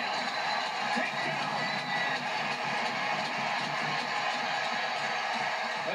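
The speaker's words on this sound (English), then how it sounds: "Reeves gets the crowd going here on home ice" Steady roar of a home-ice hockey arena crowd cheering during a fight, a broad continuous wash of voices and whoops that holds at a constant level from start to finish.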